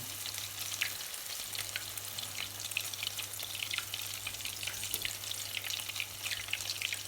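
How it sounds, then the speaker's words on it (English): Potato puff cakes fry in hot oil, giving a steady, close crackling sizzle with fine pops that runs unbroken the whole way through, with no voices. "Let them puff a bit, fry, get golden brown."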